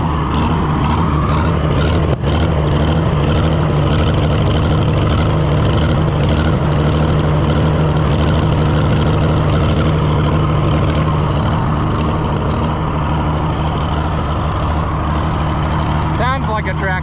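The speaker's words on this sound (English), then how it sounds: "Sounds like a tractor." An old Oliver Super 77 tractor recovered from a scrapyard idles steadily with a loud, close, rumbling engine note running through the whole stretch with no break.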